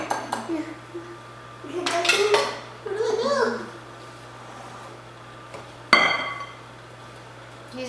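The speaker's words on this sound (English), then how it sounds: "Then use a fork to combine." A fork clinks and scrapes against a bowl while mixing blueberry muffin batter, in several short bursts of clattering with pauses between, and a sharp knock near the end; a child and an adult talk quietly in the background.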